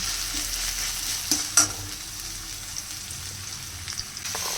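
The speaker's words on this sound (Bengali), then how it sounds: "পেঁয়াজ ভাজতে দিয়ে দিলাম পেঁয়াজটা ভাজতো" Onions frying in a pan, a continuous close sizzle with a couple of sharper clatters from a spoon or pan, no voices.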